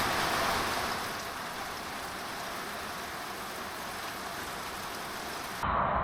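Steady rain falls in cold, wet April weather in southern France on a motorcycle journey, a dense, even hiss throughout with a slightly louder burst at the start and end.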